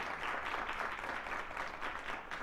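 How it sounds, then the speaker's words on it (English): A crowd applauds a sober attendee at a Galentine's podcast event, steady dense clapping that fills the whole stretch at an even level with no one speaking over it. "give her a hand clap"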